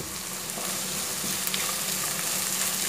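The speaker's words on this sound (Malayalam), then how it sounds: "ഒന്ന് വഴറ്റി കൊടുക്കാം." Onions with a pinch of salt and green chilies sauté in oil for a Kerala-style chicken varattiyathu, giving off a steady, close, even sizzle with no breaks and no talking.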